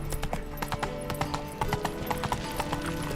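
Hooves of the horse Roach clip-clop at a steady walking rhythm in The Witcher 3, with game music and ambience underneath.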